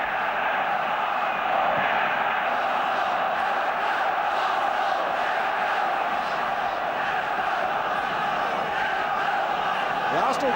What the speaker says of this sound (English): The Arsenal crowd beginning now to make a wee bit more noise than the Liverpool people